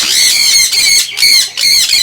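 Pet birds, including sun conures, squawk loudly and close up in a backyard aviary, giving four shrill, harsh calls in quick succession.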